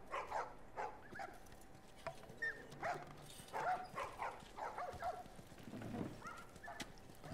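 Puppy barking in The Last of Us Remastered, a few short barks and whimpers mixed with game ambience and footsteps at moderate loudness.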